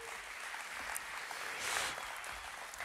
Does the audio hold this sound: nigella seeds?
no